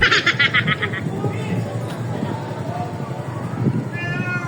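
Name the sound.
cat meowing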